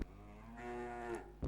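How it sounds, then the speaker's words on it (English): A cow in the Sega Mega Drive game Hard Drivin' lets out a single drawn-out electronic moo when run over by the car, clear and alone, ending with a short burst of game noise. "Will it go moo when I run it over?"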